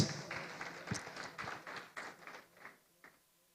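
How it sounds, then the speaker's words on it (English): Audience applause at a two-day national workshop in a hall, a dense patter of many hands that starts loud and fades over a few seconds. "A round of applause, please."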